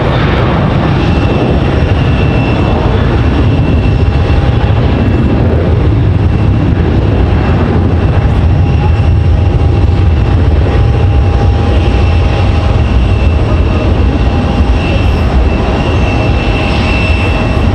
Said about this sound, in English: Nice flight with the 737-800.